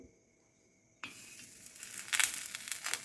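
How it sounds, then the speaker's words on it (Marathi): A chapati roasting with a little ghee on a hot griddle starts a soft sizzle after a quiet second, building into a fairly faint, uneven crackle with light hissing bursts. "हलकं हलकं तूप लावून आपण चपाती मस्त भाजून घेऊ"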